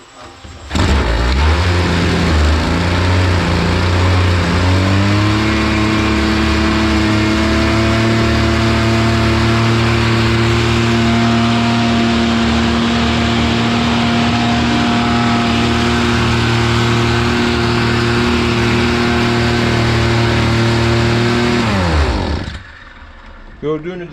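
A brush cutter with a Chinese-made two-stroke engine, suffering a chronic throttle fault, starts up and runs loud and close at a steady high drone for about twenty seconds, then cuts out abruptly.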